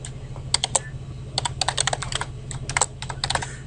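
Someone types a new password on a computer keyboard while logging into a web account, producing quiet, irregular clusters of crisp key clicks with short pauses between bursts, over a low steady hum.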